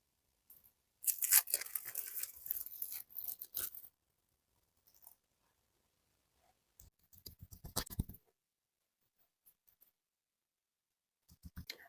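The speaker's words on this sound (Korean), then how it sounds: "다 됐으면 비닐을 벗겨주시고요." Plastic film peeled away from a face after an ampoule treatment during a home facial, giving a loud crinkling, tearing rustle for a few seconds, then a couple of brief softer crackles and a last short rustle, with no talking.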